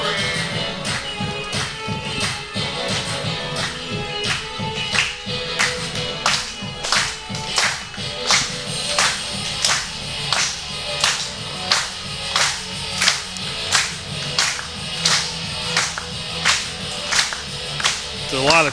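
Crowd at a pro wrestling show claps in a steady, loud rhythmic unison beat, sharp repeated claps ringing out over a continuous murmur of the audience for the whole stretch.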